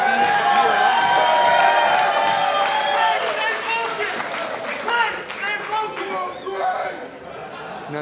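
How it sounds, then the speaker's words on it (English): A crowd at the Eddie Bravo Invitational jiu-jitsu event in Austin cheers and claps loudly, with scattered shouts gradually thinning into chatter and sporadic applause over several seconds. "And the crowd goes wild."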